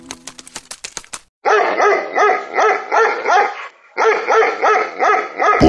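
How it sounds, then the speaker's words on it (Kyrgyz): A cartoon taigan hound barks in a steady run of loud, close, rhythmic barks, with a short pause partway through, after some brief sharp knocking sounds at the start. "Түндө болсо тайган бир чычкандын жер казып атканын уга калып, дагы үрө баштайт."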